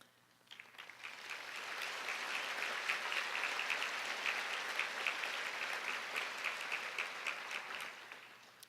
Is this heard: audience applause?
yes